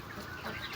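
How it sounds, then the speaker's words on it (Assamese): Local chickens on a farm cluck softly and steadily nearby, a short run of low murmuring calls with faint background noise. "মুৰ্গীখিনি চাইছে পুৰা লোকেল মুৰ্গী"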